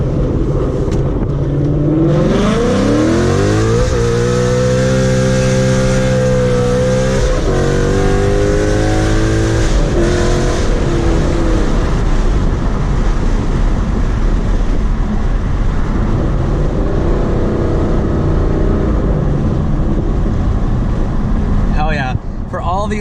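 A car with a very loud aftermarket exhaust accelerates hard, its engine rising through the revs with audible gear shifts, then roaring steadily at close range and high volume, with a voice faintly present.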